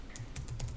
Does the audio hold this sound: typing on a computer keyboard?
yes